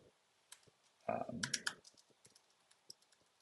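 A quick flurry of keystrokes on a computer keyboard, a short cluster of close, crisp taps followed by a few scattered clicks in an otherwise quiet room.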